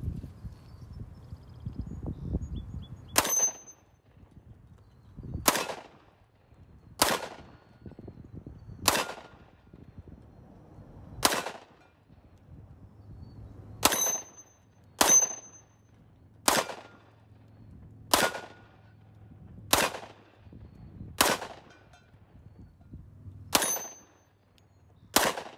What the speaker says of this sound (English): Let's go ahead and give this XDM 10mm a shot.